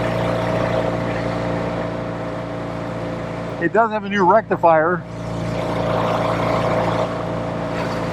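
A 1964 Triumph Thunderbird motorcycle engine idles with a steady, even rumble, close and continuous, while someone briefly speaks over it midway.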